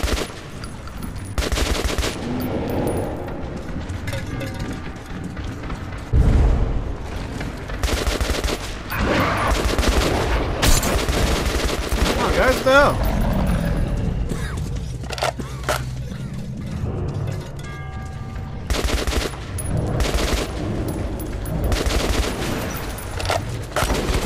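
Sustained automatic gunfire from allied fighters defending a station in the video game Metro 2033 Redux, loud dense bursts and rapid volleys rattling almost continuously without a break.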